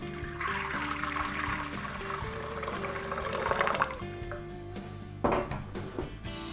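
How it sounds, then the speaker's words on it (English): Lukewarm water poured into a kitchen bowl holding dry yeast, a continuous splashing, gurgling pour lasting several seconds, then a few brief trickles and splashes as it finishes, heard close with no talking. "And then I'm just going to add in my lukewarm water."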